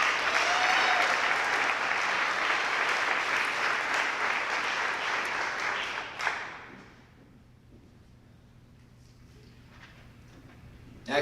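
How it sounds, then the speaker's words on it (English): A crowd at a high school senior awards ceremony claps loudly and steadily for about six seconds, then the applause cuts off abruptly into a quiet room hum, with a faint thump at the very end. "Can we give one more big round of applause for our recipients?"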